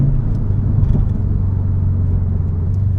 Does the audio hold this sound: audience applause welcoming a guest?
no